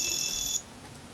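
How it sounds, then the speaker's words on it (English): A kitchen timer alarm goes off with a shrill electronic ringing tone for about half a second, then stops abruptly, leaving quiet room noise. "alarm went off"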